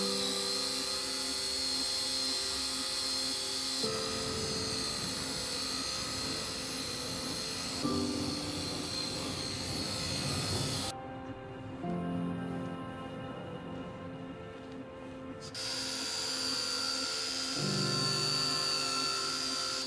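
Machine polisher spinning a gentle foam pad over the paint of a Nissan Skyline R34, a steady high whine that shifts in pitch as pressure changes, with one quieter stretch in the middle.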